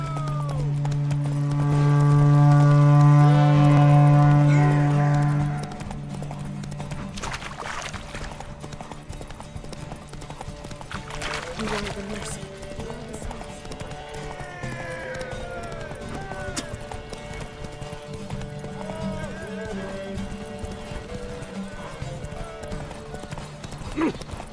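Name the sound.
horse Roach galloping in a race in The Witcher III video game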